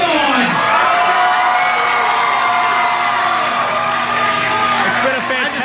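A hometown crowd at an IWC wrestling show roars and cheers for a celebrating wrestler, a loud, sustained wall of shouting and whooping with high-pitched yells on top, sounding close and steady throughout.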